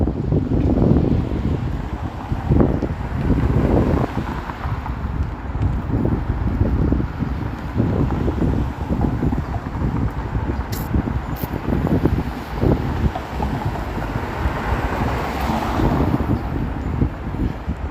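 Strong wind buffets the microphone outdoors in cold downtown Toronto, a loud, steady roar with gusty low rumble filling the whole stretch, no voices heard.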